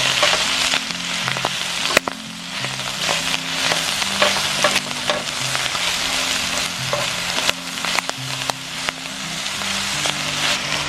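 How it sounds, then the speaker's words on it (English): Chopped seaweed frying in hot oil in a pan over heat outdoors in a forest, a steady close crackling sizzle with scattered sharp pops and spits throughout. "I'm going to heat up some oil in here and pop it over the heat"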